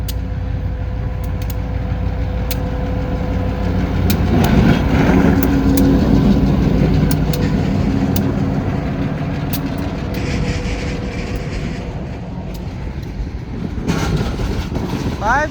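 A southbound freight train with tanker cars on the Hamilton Northwestern Railroad rolls past close by, a loud continuous rumble and clatter of wheels with sharp metallic clicks, easing slightly toward the end.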